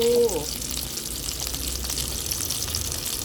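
Thai-style mackerel frying in hot oil, a steady close sizzle with a brief higher tone at the start, continuing evenly with no talk.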